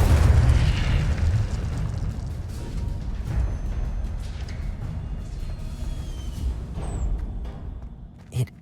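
In the Hogwarts Legacy video game, an Incendio fire spell bursts with a heavy booming blast that rumbles and crackles away, followed by a short sharp pop near the end.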